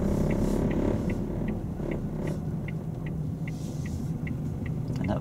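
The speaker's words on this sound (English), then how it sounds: "that vibration is driving me mad" A car's vibration rumbles while driving, a steady low drone with a faint regular ticking pulse above it, continuous and fairly loud throughout, with no voices.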